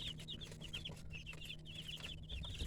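Chicks, including a guinea, an Americana and meat birds, cheep in rapid, repeated high peeps, faint and steady over a low background hum.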